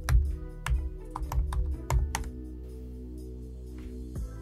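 Keystrokes on a computer keyboard as a command is typed into a terminal window, a quick irregular run of clicks in bursts through the first half, then slowing to a couple of isolated taps.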